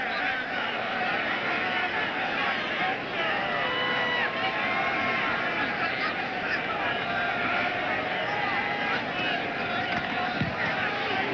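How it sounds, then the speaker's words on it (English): A college football crowd at a night game between Virginia Tech and Virginia cheers in a dense, continuous roar beneath a commentator's voice, steady and loud throughout with wind noise mixed in. "listen to the cheer from the crowd"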